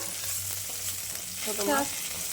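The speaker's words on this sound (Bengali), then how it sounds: "এখন ভেজে নিচ্ছে মা মাছগুলো" Small fish frying in a pan give a steady, moderately loud oil sizzle, with a brief scrape of stirring near the end and no voices.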